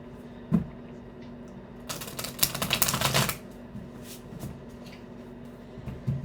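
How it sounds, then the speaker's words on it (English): Cards riffle quickly together in a brief crisp flutter, bracketed by a few soft taps and clicks in a quiet room. "go ahead and get a good shuffle."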